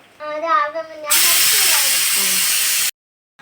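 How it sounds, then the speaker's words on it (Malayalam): Steam bursts loudly from a pressure cooker while a snack is being cooked: a steady, strong hiss lasting about two seconds, then stopping abruptly. A voice speaks just before the release. "ആവി കളഞ്ഞ് നോക്കാം ഏ ആവി വന്നോണ്ടിരിക്കുകയാണല്ലോ"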